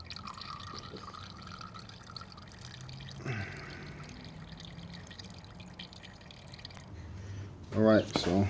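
Coolant drains from a 1995 ZX7 motorcycle into a bucket, a faint trickle and drip under quiet background noise, ending with a brief louder clatter near the end.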